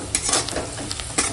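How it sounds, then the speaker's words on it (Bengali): Onion and green chili fry in leftover fish-frying oil, a steady crackling sizzle broken by stirring scrapes and spatters, close by. "পেঁয়াজ কাঁচা লঙ্কা সব একসঙ্গে ভেজে নেব। ওই মাছ ভাজার তেলেই ভেজে নিচ্ছি।"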